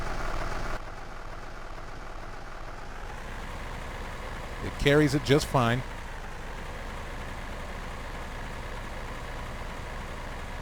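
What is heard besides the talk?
Massey Ferguson 698 tractor engine running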